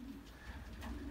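Pigeon cooing inside a racing-pigeon loft, soft low murmuring coos that repeat faintly against a quiet indoor background, with no talk over them.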